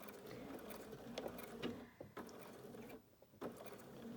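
A sewing machine backstitches back and forth over elastic on a fabric face mask, giving a fast mechanical patter in short repeated bursts separated by brief pauses, close and moderately loud.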